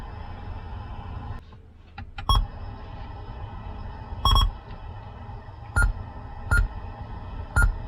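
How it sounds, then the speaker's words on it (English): Sharp electronic beeps sound at irregular intervals, some doubled, loud and close, over a steady background hiss. "God, that beep."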